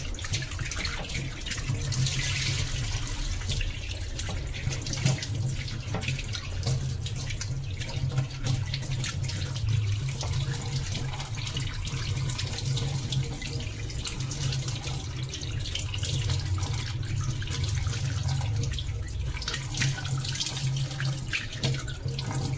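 A tap runs steadily while cut tuna pieces are rinsed clean in a sink, a continuous close stream of splashing water with no speech.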